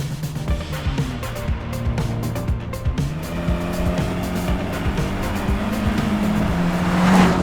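A 2021 Hyundai Elantra N Line with its 1.6-litre turbo engine pulls hard, the engine note rising and dropping through gear changes and then building to a louder, strained peak near the end, heard up close with no talking.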